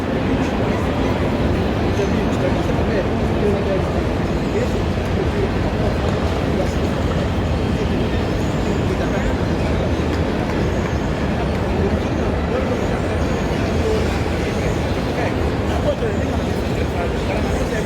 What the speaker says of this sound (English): we're on the train to Prague